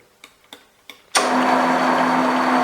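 A machine spindle spins up during crankcase machining on a Honda Lead scooter, opening with three soft ticks, then a sudden loud, steady whirring drone with a constant tone that runs on evenly.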